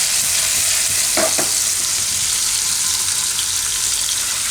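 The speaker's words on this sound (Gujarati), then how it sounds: "પનીરને થોડુંક આમાં આપણે શેકી લઈશું." Paneer cubes pan-roast in a hot pan for a paneer corn salad, a loud constant sizzle close by with a couple of brief utensil taps near the middle, no voices.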